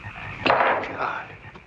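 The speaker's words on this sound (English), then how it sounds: "every scene is painted over the sound of frogs" Frogs croak on the soundtrack of the film Frogs, a short burst of raspy calls rising suddenly in the middle, then a fainter second croak as it trails off.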